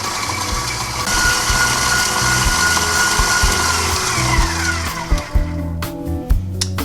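A KitchenAid stand mixer fitted with a beater blade that has a rubber scraping edge churns sour cream coffee cake batter with a steady whirring hum. The motor slows and clunks to a stop near the end.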